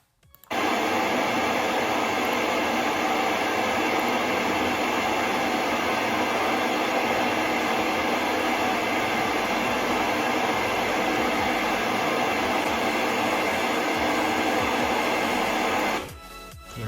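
A pink noise test signal hisses steadily at constant level for about fifteen seconds, starting and stopping abruptly, with no other sounds.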